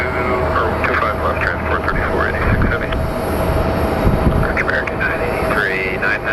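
An airliner pushing back at Phoenix Sky Harbor airport, with a steady, loud engine whine and rumble running throughout while people talk over it.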